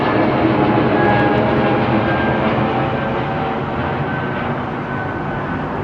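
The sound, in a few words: airplane taking off, Heathrow runway 09R departure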